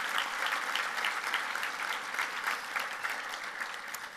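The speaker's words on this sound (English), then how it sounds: "Let's give them a round of applause for what they do for us." A room of attendees at a football award event claps steadily, a faint but continuous wash of hands with no speech over it.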